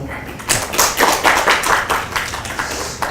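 An audience at a Korean career-mentoring talk event claps, a dense burst of hand claps that swells and then tapers off over a few seconds, with a voice briefly heard.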